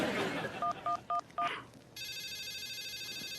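Four quick telephone keypad dialing tones, then after a short pause a steady electronic ringing tone begins and continues, with faint background noise.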